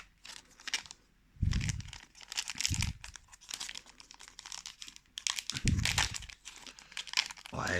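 A Dragon Ball card booster pack being torn open, with close crinkling foil, sharp rips and rustling in bursts, separated by brief pauses.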